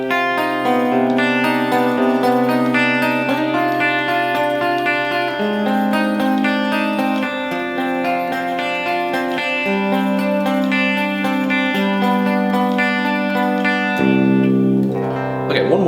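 Electric guitar runs through the fourth section of a song with small variations, a steady stream of picked notes and shifting low patterns, close and even in level, played alone without talk.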